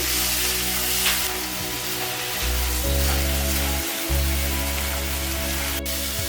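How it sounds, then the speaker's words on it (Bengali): Vegetables sizzle steadily in a pan as chili, garlic and ginger paste are stirred in for an egg macaroni, a continuous close hiss with low rumbling and no voices. "সবজিটাকে আমি হালকা ভেজে নেওয়ার পর এর মধ্যে আমি লঙ্কা, রসুন বাটার, আদা বাটাটা মিক্স করছি"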